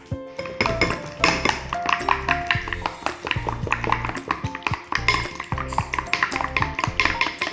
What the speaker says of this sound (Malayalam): കുറച്ച് കുരുമുളക് പൊടി പാകത്തിന് ഉപ്പും ഇട്ട് മിക്സ് ചെയ്തെടുക്കാം